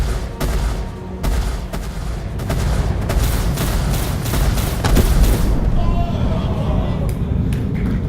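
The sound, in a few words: turret gunfire in the video game Star Citizen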